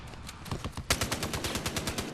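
Rapid automatic gunfire rattles in Battlefield Hardline, with lighter shots at first and then a sharp, loud burst of closely spaced rounds that keeps going.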